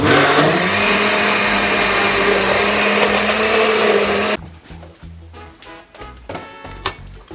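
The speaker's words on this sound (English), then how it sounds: "So I'm gonna drop in the syrup in the blender, see?" A loud, steady blender whir runs for about four seconds, then cuts off, leaving quieter clinks and rattling of ice settling in the jar.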